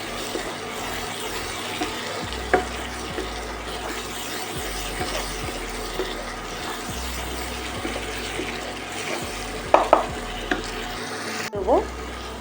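Spice masala for chilli chicken is stir-fried in a pan, giving a steady close sizzle with scraping and stirring, a few louder clanks toward the end, and no talk.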